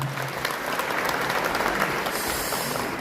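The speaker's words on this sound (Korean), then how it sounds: "감사의 박수 부탁드리겠습니다." A seated audience gives steady, even applause of thanks at the completion ceremony for the Goryeong County gymnasium in Korea. The clapping carries unbroken for a few seconds with no voices over it.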